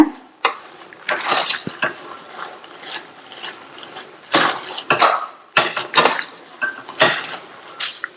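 Cooked rice and lentils for pongal are mashed in a pot, producing irregular bursts of metallic scraping and clanking from the utensil against the pot, loud and close with short pauses between strokes.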